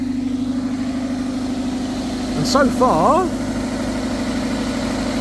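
A Toyota MR2 engine idles cold after a battery change, a steady low drone with a constant hum close by, briefly overlaid by someone speaking.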